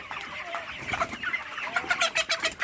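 Broiler chickens on a poultry farm housing around four thousand birds cluck and chatter together, a dense overlapping flock murmur with repeated clucks rising toward the end, close and steady.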